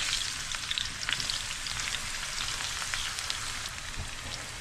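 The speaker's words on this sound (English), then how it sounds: "now we're going to go ahead and cook the other half. Get these fried up." Eggplant slices fry in a pan for Sicilian pasta alla Norma, giving a dense, continuous close-up sizzle with fine crackling pops and no voices.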